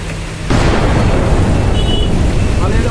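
Heavy rain comes down on a shop in a sudden loud, dense hiss that starts abruptly and stays steady and close, with no talking over it.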